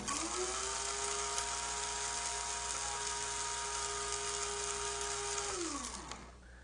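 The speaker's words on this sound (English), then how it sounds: "you should not run the Bodum Bistro coffee grinder for more than 60 seconds at a time" A Bodum Bistro electric blade coffee grinder grinds coffee beans with a loud, steady high-pitched motor whine that holds for about five seconds, then winds down as the motor is switched off.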